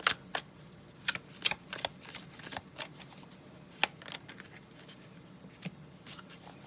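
Tarot cards being shuffled up close in a quiet room, sharp irregular riffles and snaps scattered over a soft steady background.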